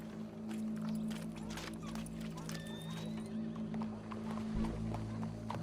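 Steady clip-clop of horse hooves with an occasional whinny in Red Dead Redemption 2, set against constant droning game music and background voices.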